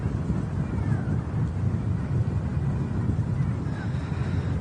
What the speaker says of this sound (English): Pretty windy as well